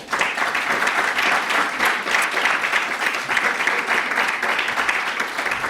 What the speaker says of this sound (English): I just want to give a quick round of applause to all the panelists.